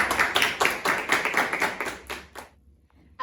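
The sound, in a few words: audience applause at an FFA awards banquet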